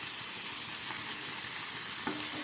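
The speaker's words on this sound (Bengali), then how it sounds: "গ্যাসটা একটু বাড়িয়ে দিচ্ছি। একদম মশলায় কষা কষা হয়ে গেছে।" Chicken frying in a spice masala in a pan over a gas stove gives a steady, close, even sizzle that runs the whole time, with no one talking.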